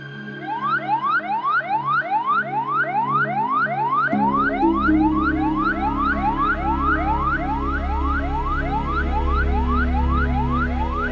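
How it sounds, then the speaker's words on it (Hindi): A wailing ambulance siren sweeps up and down in rapid repeated cycles, loud and continuous, joined partway through by a low rumbling engine or traffic noise. "एम्बुलेंस"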